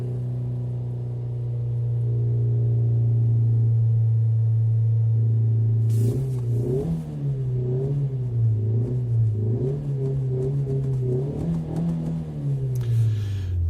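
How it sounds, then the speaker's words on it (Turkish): A steady synthetic engine hum from a Renault Megane 4's speakers drones, then rises and falls in pitch like revving, smooth and electronic-sounding, played back rather than a real motor. "motor ses tasarımı yapay olarak kolonlardan ses veriyor"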